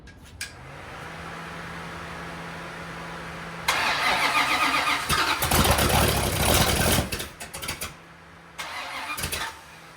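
A rebuilt 1969 Dodge Super Bee 383 V8 engine on a test stand cranks and catches, then roars loudly into a rough rumbling run before settling back toward an idle, with no talking.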